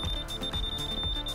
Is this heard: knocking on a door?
no